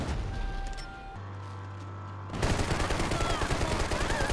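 Uzi fire in a Max Payne 3 multiplayer match erupts halfway through as a loud, sustained rapid rattle, following quieter game ambience and a steady low hum.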